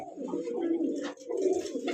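Young pigeons kept for flying contests coo in soft, low, throaty phrases, two rounded bursts close to the microphone with a brief pause between them.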